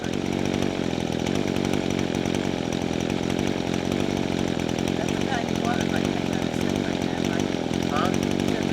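An Echo SRM-2100 grass trimmer's small two-stroke engine runs steadily and loudly close by, a continuous buzzing drone without pause, with people talking over it.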